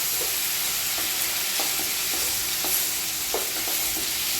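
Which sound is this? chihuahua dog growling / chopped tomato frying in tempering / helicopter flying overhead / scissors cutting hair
chopped tomato frying in tempering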